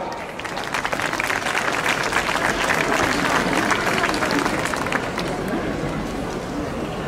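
A large outdoor crowd in a town square claps steadily at a Benedictine torch procession's arrival in Cassino, a dense, sustained wash of applause that swells and then eases slightly over several seconds.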